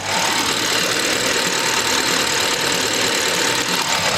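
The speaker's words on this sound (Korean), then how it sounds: "영상으로 엔진 소음 한번 담아보도록 하겠습니다." A gasoline Audi A8 engine idles with the hood open, a steady, smooth running hum close by that holds level throughout, with no talking over it.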